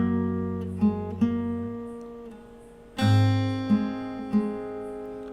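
Fingerstyle acoustic guitar plays a slow phrase from a song, with notes placed half a beat late; sustained ringing chords with a few plucked accents, close and alone.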